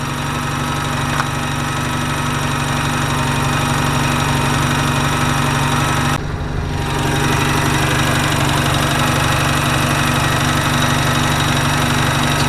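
A stock Mazda RX-7 rotary engine with 140,000 km idles steadily and smoothly, a loud, even drone close to the listener with one brief dip partway through.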